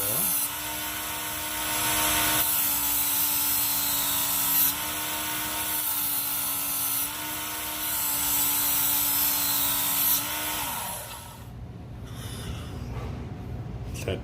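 WorkSharp powered knife sharpener grinding the tip of a dull knife, a steady whining motor hum with a few short passes of belt-on-steel grinding before it winds down, with breathy sounds nearby.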